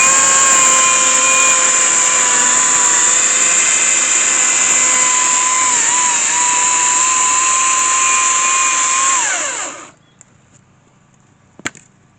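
A cordless saw cutting through firewood runs as a loud, steady high-pitched whine for about ten seconds, its pitch dipping slightly as the cut finishes, then cuts off abruptly, leaving quiet with a single knock.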